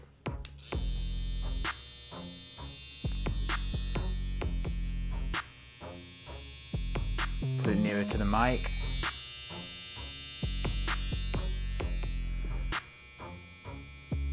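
A TPOB X electric hair trimmer with an all-metal body runs with a steady close buzzing hum, switched on and off several times in short bursts, with someone talking briefly in between.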